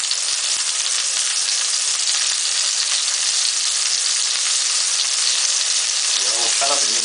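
A thick piece of seasoned hake loin sizzles loudly and steadily in a hot pan, with a continuous bright crackle and a brief scrape near the end.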